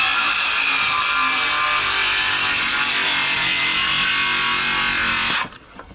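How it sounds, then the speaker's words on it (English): A power saw cuts steadily through a wooden stair board, making a continuous loud, rasping whine close up for several seconds before it stops abruptly. "So the saw's going through the material, right, by 1/4 inch."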